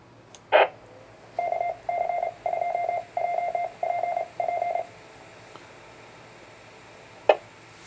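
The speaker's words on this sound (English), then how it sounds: "we'll just go ahead and key up this repeater" A Yaesu FT-7900R radio keying up a repeater: a click, then six short bursts of beeping tones in an even rhythm, then quiet static and another click, moderately loud with no talking.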